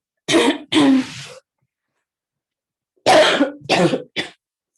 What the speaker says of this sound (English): it's making me cough